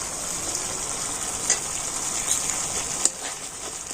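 Spices sautéing with sour yogurt in a pan, giving a steady bright sizzle close by with a few faint scrapes, continuous and even, no talking.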